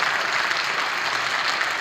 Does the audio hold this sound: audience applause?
yes